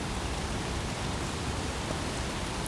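Steady rain falls outside in a long, unbroken downpour, heard as a dense, even hiss that neither swells nor fades, with no voices over it.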